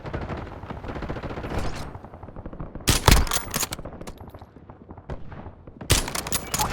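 Heavy gunfire in a Call of Duty multiplayer match, with rapid machine-gun bursts rattling at the start, then loud, sharp volleys of shots around the middle and again at the end.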